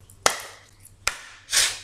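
A deck of tarot cards is cut and handled on a table: two sharp, crisp slaps spaced under a second apart, followed by a softer, longer riffling shuffle, close and fairly quiet with no talk.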